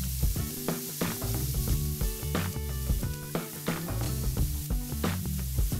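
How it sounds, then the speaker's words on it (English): Onions sauté in olive oil in a pan with a steady, fairly loud sizzle that crackles and pops throughout, and no voices. "Use the same pan to saute your onion with olive oil until they turn brown."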